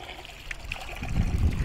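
Cold water trickles and splashes from a public fountain in Niš, Serbia, close and steady, growing fuller and more gurgling in the second half.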